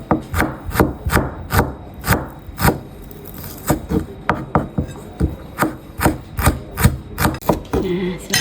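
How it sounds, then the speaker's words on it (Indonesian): Knife slicing shallots on a cutting board in a home kitchen, a steady run of close, crisp chops landing about three times a second with no talk. "Kemudian lanjut bawang merah kita potong serong juga"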